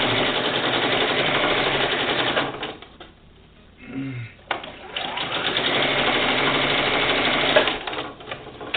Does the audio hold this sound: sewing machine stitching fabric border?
yes